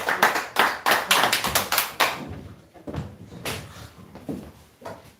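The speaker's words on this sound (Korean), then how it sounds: "우리 하나님께 영광의 박수" A church congregation gives a round of clapping in praise during a Korean worship service, a burst of sharp rhythmic claps that fades after two seconds into scattered, softer claps.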